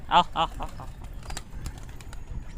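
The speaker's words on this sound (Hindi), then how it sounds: "तो देखें फ्रेंड्स, हमारे सारे कबूतर निकल गए। अब जो है वो हमें इन्हें दाना देंगे।" Pigeons on a rooftop, just released and waiting to be fed grain, give a couple of loud close coos at the start, followed by softer rustling, wing flutters and scattered faint calls.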